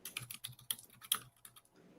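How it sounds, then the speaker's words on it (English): Rapid, uneven clatter of keys on a computer keyboard, close and fairly quiet, in irregular bursts with brief pauses. "What are you typing?"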